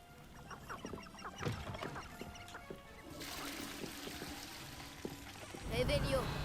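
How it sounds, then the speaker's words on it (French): A chicken clucks in the Hogwarts Legacy video game: short bursts of fowl calls near the end, over game sounds, with someone talking over the game earlier in the clip. "Une poule."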